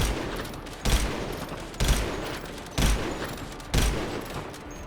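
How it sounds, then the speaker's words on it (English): Precision rifle firing tracer rounds in GTA Online: four loud, evenly spaced shots about a second apart, each a sharp crack trailing off into a dull, noisy tail. "here is a comparison between how the tracer rounds look compared to the regular ammo shots"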